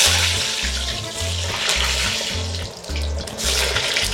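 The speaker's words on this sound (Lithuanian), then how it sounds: "Truputėlį bulvės čiriška" Potatoes frying in hot oil inside a kazan over a grill, a loud steady sizzle and bubbling that runs throughout with pulsing low rumble underneath.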